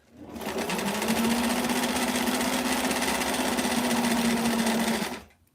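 A sewing machine stitches a Barbie square dance dress in one continuous loud run of about five seconds, with a steady motor hum and rapid needle chatter, stopping abruptly at the end.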